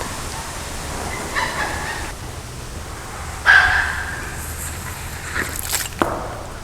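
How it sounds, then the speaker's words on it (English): An excited dog lets out a few high, yelping, hyena-like cries outdoors in the woods, short bursts spaced over several seconds against a quiet background with some footsteps. "The dog sounds like a hyena when she gets excited like that."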